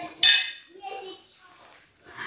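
Dishes and pots clatter as they are washed in a home kitchen on Christmas Eve, with one sharp bright clink near the start and softer knocks after, while voices talk nearby.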